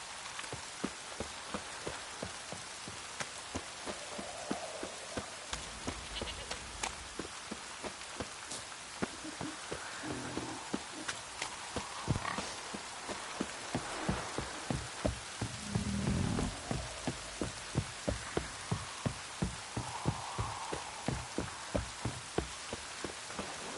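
Rain falling in the video game The Witcher 3, a steady hiss of drops with frequent sharp patters and low rumbles underneath, continuous and fairly loud throughout with no talk.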